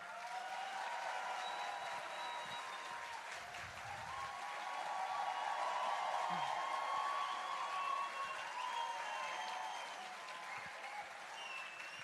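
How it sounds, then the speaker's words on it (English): Sustained audience applause for Sadhguru at a Save Soil event in Jordan, a full crowd clapping steadily for several seconds, swelling slightly in the middle before easing. "A big applause to Sadhguru."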